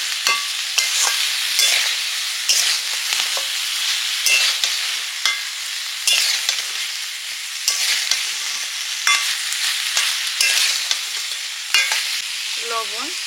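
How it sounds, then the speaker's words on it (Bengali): Fried snakehead fish and potatoes are stirred with spices in a hot pan, a loud continuous sizzle broken by regular scraping strokes of the spatula roughly every second, close up with no talking. "ভাজা মাছ ভাজা আলু দিয়ে দিলাম, মশলার সঙ্গে একটু নেড়ে নেব।"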